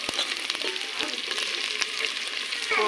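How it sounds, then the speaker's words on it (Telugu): Pieces of country chicken sizzle and fry in a pan over a wood fire, a steady close crackling hiss with occasional stirring clinks and no talking. "చికెన్ వేస్తున్నాండి."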